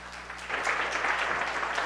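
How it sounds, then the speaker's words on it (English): A conference audience applauds a keynote speaker, brisk clapping from a fairly large crowd that swells after a quieter start and continues steadily over a low room hum. "So everyone, please give Brent a warm round of applause."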